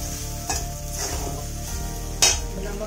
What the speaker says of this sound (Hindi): अभी मैं अभी इसमें साबूदाना डालती हूँ, थोड़ा सा मिला देती हूँ।